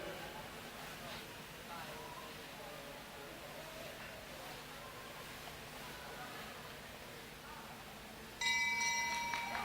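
A final lap bell rings at a junior track cycling race in a Melbourne velodrome, its bright tones ringing out near the end over a steady wash of crowd and arena noise.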